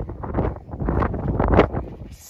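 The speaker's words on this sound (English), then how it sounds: "It's so windy." Gusty wind buffets the microphone in rough, rumbling surges at an abandoned office block, loud and close, easing off near the end.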